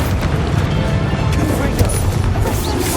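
A Confringo fire spell in Hogwarts Legacy bursts with a loud, dense, rumbling blast amid crackling combat noise, close and sustained for a few seconds.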